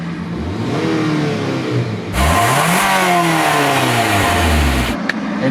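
A 2020 Mitsubishi Outlander's four-cylinder engine revs loudly and close up, climbing and falling in pitch through repeated throttle blips with a steady whine underneath, and no voices.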